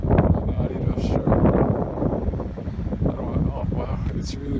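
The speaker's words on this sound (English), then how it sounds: "Oh wow, it's really windy. I'm sure you guys can hear that now." Strong wind buffeting the microphone on a ferry deck, a loud continuous roaring rush with gusting swells throughout.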